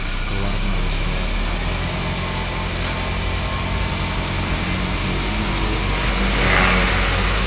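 Toyota Camry engine running during a tune-up, a steady loud mid-pitched hum with mild revving and a slight surge near the end, heard alone without talk.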